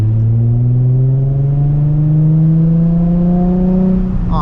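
A 2007 Nissan 350Z HR engine pulls steadily under acceleration while driving, its loud, close drone rising smoothly in pitch through a single gear with no talking over it.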